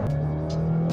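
A Honda Civic Si's engine, an 8th-generation car, holds a steady high rev with a strong sustained drone, close and loud, with no talking over it.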